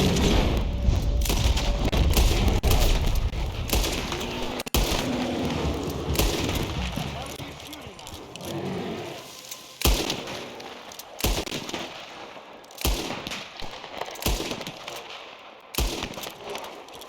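Gunfire in the video game Red Dead Redemption 2: loud, cracking shots that start out dense and chaotic, then come as separate blasts spaced across the clip, with shouting and game noise underneath.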